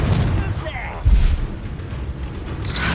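A fiery blast spell cast in Hogwarts Legacy, a deep booming explosive burst with rumbling low impact around the middle, amid continuous game noise and combat sounds.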